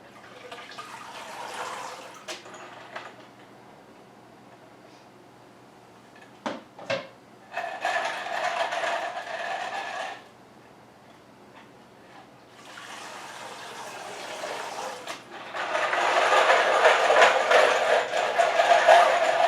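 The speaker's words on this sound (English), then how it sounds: "Now I'm going to my rinse bucket." Brass cartridge casings swished and rinsed in a bucket of water, with bursts of sloshing and running water separated by quiet gaps and a couple of sharp knocks, louder and fuller toward the end, with no talking.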